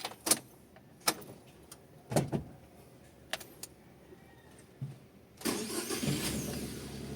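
A Suzuki DA17V minivan engine cranks and starts, preceded by a few sharp clicks and clunks, then settles into a loud, steady idle over the last couple of seconds.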